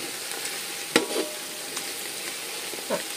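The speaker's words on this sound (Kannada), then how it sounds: "ಈರುಳ್ಳಿ ಇನ್ನೂ ಸ್ವಲ್ಪ ಚೆನ್ನಾಗಿ ಗೋಲ್ಡನ್ ಬ್ರೌನ್ ಬರೋ ತನಕ ಫ್ರೈ ಮಾಡ್ಕೋಬೇಕು" Onions frying in oil in a pan until golden brown for chicken biryani, a soft steady sizzle with a few sharp stirring clicks, heard close with no voices.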